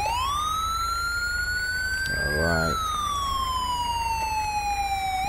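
A police car siren, stuck on, wails nearby in slow rising and falling sweeps while someone briefly speaks over it midway.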